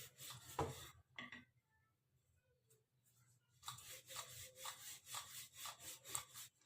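A rolling pin presses lachha paratha dough against a stone tabletop in quiet, rhythmic back-and-forth rubbing strokes, with sparse scrapes at first and then a steady run of passes.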